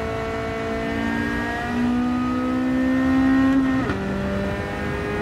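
A race car engine in Gran Turismo accelerates hard, its tone climbing steadily through a gear and then shifting down in pitch before pulling again, loud and continuous with no talk.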